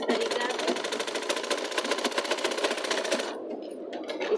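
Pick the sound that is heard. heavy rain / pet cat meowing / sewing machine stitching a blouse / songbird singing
sewing machine stitching a blouse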